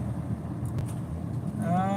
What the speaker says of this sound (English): There is the traffic.